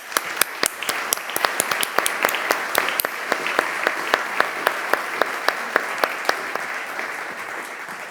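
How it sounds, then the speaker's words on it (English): Applause from a group, steady dense clapping with a few sharp, distinct claps standing out throughout, moderately loud and close. "I would like to give them a big applause."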